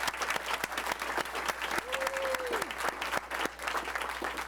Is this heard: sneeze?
no